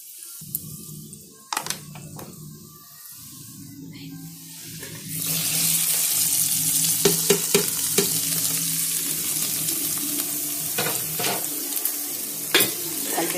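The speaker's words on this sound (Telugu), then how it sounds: "కొంచెం ఎండుమిరపకాయలు వేగేంత వరకు మనం వండివ్వాలి." Dried red chillies frying in oil for a festival tempering, starting quiet with a few clinks, then breaking into a steady, bright sizzle with occasional pops and scrapes that continues to the end.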